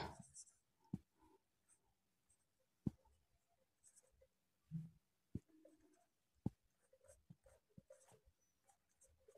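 A pen or pencil writes maths working by hand, with close scratchy strokes and taps in uneven bursts while a voice murmurs faintly in the background.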